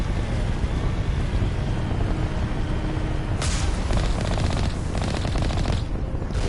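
Gun turrets firing in Mass Effect Legendary Edition, a dense continuous roar of rapid gunfire and booming blasts with sharper bursts of shots cutting through near the end.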